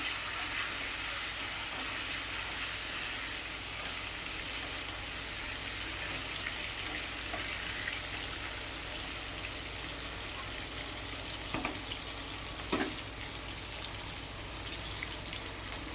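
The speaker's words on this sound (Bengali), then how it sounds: "আলু আর পটলটা খুব ভালো করে ভেজে নেব।" Potatoes and pointed gourd fry in a pan with white cumin, a soft, steady hiss running throughout, broken by two sharp knocks near the end.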